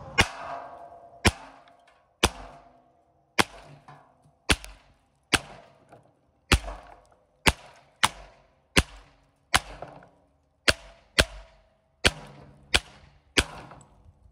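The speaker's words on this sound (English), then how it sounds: "So we're using our 22, our Marlin Model 60, and we are gonna be shooting these to see what happens" A Marlin Model 60 .22 rifle fires at clay pots, giving fifteen sharp, evenly spaced cracks, each with a brief shattering ring, close and loud with no talk.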